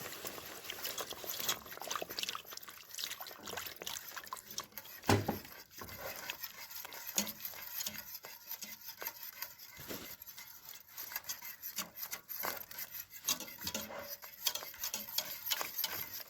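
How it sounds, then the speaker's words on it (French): Stock is poured into a simmering Spanish sauce while it is stirred steadily in a pan, giving soft continuous trickling and scraping with faint utensil clicks, quiet and close, with no talking. "on va rajouter l'entièreté du fond, tout en mélangeant bien"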